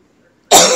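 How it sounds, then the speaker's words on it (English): A single sharp, loud cough from a person recovering from a cough bursts out after a short quiet pause, close to the microphone. "I'm still recovering from a cough."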